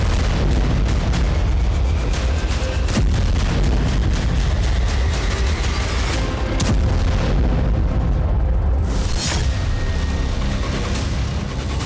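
HIMARS rockets strike Seletso in Russia's Bryansk region, setting off a dense, loud barrage of booms and blasts with a continuous rumbling roar and sharp cracks throughout, no voices heard.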